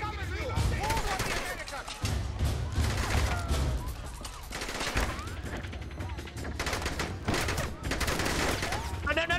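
Loud, dense gunfire from The Bourne Conspiracy video game: rapid bursts and volleys fire almost without a break, with game voices and other effects mixed in.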